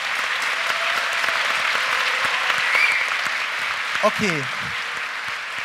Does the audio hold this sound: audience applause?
yes